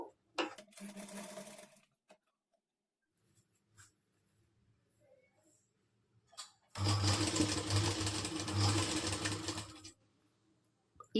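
Sewing machine stitching a halter neck blouse, a short whirring run near the start, quiet handling in between, then a longer loud steady stitching burst of about three seconds.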